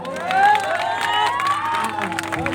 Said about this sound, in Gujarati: तालियां बजाओ तो ऐसी बजाओ कि कलाकारों को जोश आ जाए